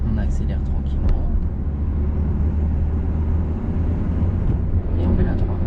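During a driving lesson, a car engine hums steadily from inside the cabin as it gently accelerates, a continuous low drone with a faint voice over it.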